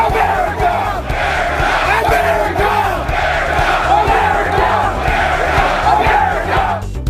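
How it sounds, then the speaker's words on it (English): A loud, boisterous crowd cheers and roars without a break at the Ryder Cup golf tournament, where the United States won, with rhythmic chanting pulses running through the noise. "Yeah, boisterous crowd."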